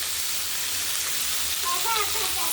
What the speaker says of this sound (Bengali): এই যে উচ্ছে কুমড়ো ভাজা হচ্ছে,